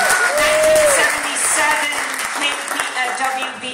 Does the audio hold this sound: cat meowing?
no